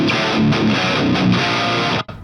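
Heavily distorted electric guitar through the Mercuriall Euphoria amp plugin with the structure switch on high gain plays thick, saturated chords in a loud, close, rhythmic riff, then cuts off abruptly into a short tail.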